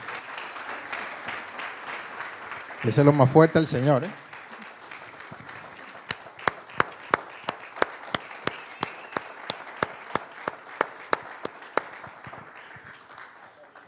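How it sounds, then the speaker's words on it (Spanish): Church congregation clapping at a service, a short burst of full applause followed by a slower run of sharp, spaced single claps under someone speaking. "Yo así me siento como uno de ustedes aplaudiendo. Digo, bueno, estamos aplaudiendo al Señor."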